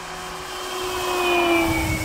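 A Hangar 9 Ultra Stick RC model airplane on 6S electric power flies at full speed, its steady motor whine rising and swelling in loudness as it passes fairly close, with no talking.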